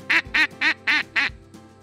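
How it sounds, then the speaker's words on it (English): Duck call blown incorrectly with puffed cheeks, giving five loud, buzzy, kazoo-like quacks in an even rhythm, close and alone. "they blow through the call just like they're blowing out of their cheeks"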